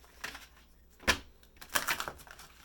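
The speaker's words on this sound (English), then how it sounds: "And one more shuffle." Cards being shuffled in a few quick riffling bursts, close and fairly quiet, with soft pauses between.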